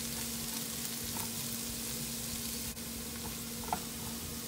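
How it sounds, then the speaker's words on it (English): Beans and potatoes cook in a covered pan over a medium flame, producing a constant hiss of frying with a faint low hum and a couple of tiny clicks, steady and close. "Again going to cover with lid and going to cook on medium flame for 4 to 5 minutes."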